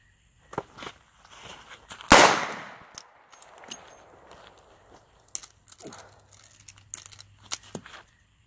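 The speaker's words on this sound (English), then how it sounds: "So I'll do 1 shot and then a speed reload and see how much faster it is." A revolver fires one sharp, loud shot early on, followed by a run of small clicks, clacks and metallic handling sounds as a speed reload is drawn from a pocket and the cylinder is refilled.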